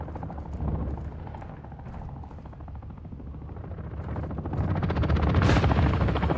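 A helicopter in the shooter game Warzone 2 beats its rotors in a steady, chopping drone. It grows louder and closer toward the end, with rapid gunfire-like rattles mixed in.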